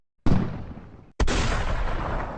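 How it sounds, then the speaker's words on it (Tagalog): Animated fireworks sound effect: two sharp booming bursts, each trailing into a long rumbling crackle, loud and close with no voices. "Fireworks lang yun."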